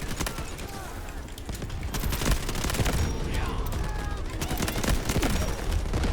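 Rapid automatic bursts from a Bizon submachine gun in the Delta Force shooter crackle almost nonstop with scattered heavier impacts and mechanical clicks, dense and fairly loud, with some voice and game chatter underneath.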